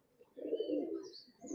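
Pigeons in a loft with proven racing results, a single soft low coo swelling and fading over about a second, faint and close.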